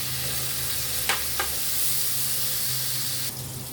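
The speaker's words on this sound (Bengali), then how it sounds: "আমার বরবটি গাজরটা ভাজা হয়ে গিয়েছে" Chopped long beans and carrots fry in a pan with a steady loud sizzle, broken by a couple of sharp scraping strokes from a stirring spoon, then the hiss eases slightly near the end.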